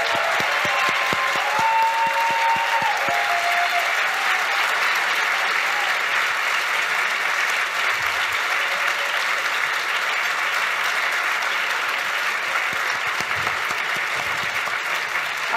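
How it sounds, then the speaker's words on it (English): Sustained applause from a debate audience honours the debaters, a broad, steady wash of many hands clapping for over fifteen seconds, close and loud throughout. "can we just have a round of applause for all our debaters today?"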